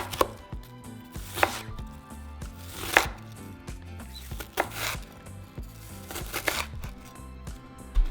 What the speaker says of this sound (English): so the other half of our onion, we're going to cut it into small cubes